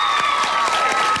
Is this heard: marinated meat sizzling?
no